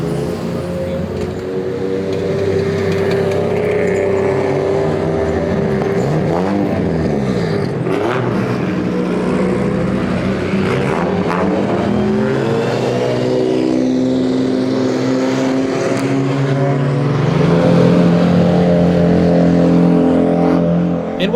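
Many cars idling and revving outside a drift event venue, a busy parking-lot meet; engines rumble and rev up close and continuously, with occasional louder throttle blips and faint voices in the background.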